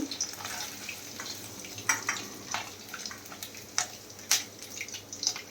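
Paneer fries in a pan with a soft, continuous sizzle, broken by occasional sharper crackles and light utensil clinks, fairly quiet and close.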